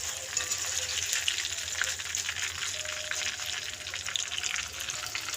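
Jackfruit chips fry in hot oil, a steady close sizzle and bubbling hiss that stays even throughout without talk.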